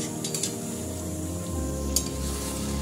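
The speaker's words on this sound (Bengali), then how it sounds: "এবার আমি 5 মিনিট আরও এরকম করে কষিয়ে নেব।" Kadai chicken masala sizzles steadily in a hot pan while a spoon scrapes and stirs it, with a few sharper metallic clinks near the start and midway and no voices.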